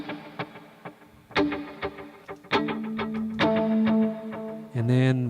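Electric guitar through drive, sixteenth-note and dotted-eighth delay and a long 3.5-second hall reverb, playing separate notes and chords that ring out and trail into a wide wash of echo.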